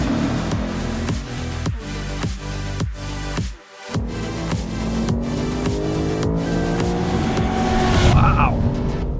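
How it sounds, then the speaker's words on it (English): Lexus RC F on the Laguna Seca race track, its V8 engine revving hard and climbing through gears with sharp shifts and a brief lift, loud and close from inside the car. "Always love driving the RCF. This sounds good, good power."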